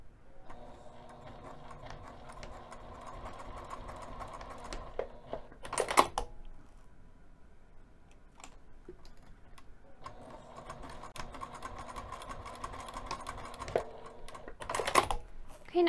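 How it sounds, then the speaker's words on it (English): A sewing machine stitches across the short end of a fabric strap in two runs of steady mechanical whirring and rapid ticking, each ending with sharp clicks and handling noises, close and moderately quiet. "we're going to sew a quarter of an inch away from the short end"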